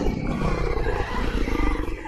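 A wolf creature in The Wolf Among Us video game lets out a continuous, loud roaring growl that lasts about two seconds without a break.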